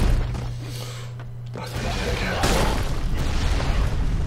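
Video game explosions from Broforce: a steady low hum gives way to a burst of booms that swell into a loud, sustained crackling roar, with voices mixed into the din.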